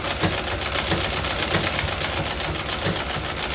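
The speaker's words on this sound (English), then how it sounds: "One of the nice things about a treadle machine is they're relaxing." A treadle sewing machine stitches steadily, its needle and mechanism clattering in a fast even rhythm that runs continuously and close up, with no voices over it.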